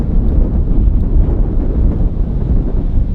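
Strong outdoor wind buffeting the microphone, a loud continuous low rumble with gusty fluctuations and no other clear sounds.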